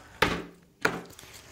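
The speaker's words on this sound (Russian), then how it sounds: "Грубо и цинично разделываемся с куриным филе бедра." Chicken thigh fillet being chopped on a board, two sharp knife strikes about half a second apart followed by a softer tap, close and clear with no talking.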